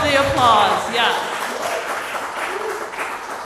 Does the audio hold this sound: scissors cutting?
no